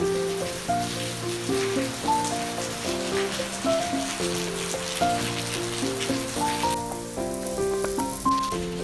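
Steady rain falls on a yard as a soft continuous hiss, mostly buried under a louder melodic music track that plays throughout.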